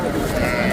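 Sheep bleating at a rural livestock market, a close bleat mixed into a busy background of people talking.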